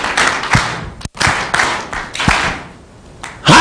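Crowd clapping at a Jubilee senatorial bid launch rally in Kiambu, Kenya, in 2022, with dense bursts of applause that swell and fade and break off briefly, with loud thumps nearby.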